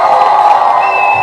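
A live audience cheers and whoops loudly in a steady crowd roar, thick and sustained from start to finish with no break.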